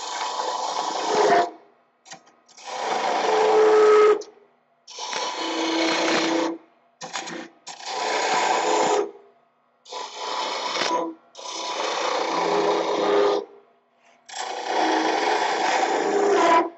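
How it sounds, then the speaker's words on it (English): A hand tool carving into the end of a wooden handle during a woodworking demonstration, in a series of scraping, rasping strokes, each a second or two long and separated by short pauses, close and fairly loud. "So I'm now cutting into the end of the handle."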